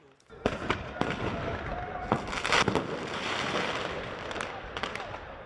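Fireworks used as weapons by a crowd attacking a station in Melbourne crack and pop in a series of sharp bangs, some close and some farther off, over a steady crowd-like rumble.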